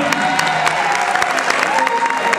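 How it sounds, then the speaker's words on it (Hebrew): Applause from a concert audience at an oriental music concert in Paris, with dense, steady clapping mixed with some cheers and crowd noise throughout. "מחיאות כפיים!"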